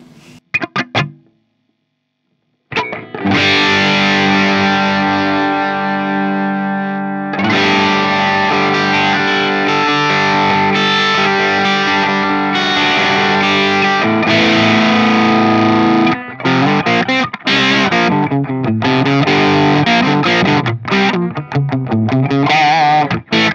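Electric guitar played through a KSR Eros boost pedal with the gain at maximum, giving a loud, saturated overdrive: sustained chords ring out, then a busier stretch of choppy riffing with short stops, alone without talk.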